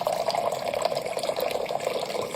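Water pours into an empty Bibbo water filter jug, a steady close splashing and trickling fill with no talk.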